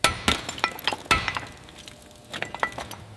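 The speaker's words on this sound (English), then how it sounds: "Hammering out the absolute last mounting pin holding the engine to the firewall." Metal hammer striking the last engine mounting pin on a WWII fighter plane recovered from a swamp, a handful of sharp metallic clanks at uneven intervals, loud and close with quieter taps between.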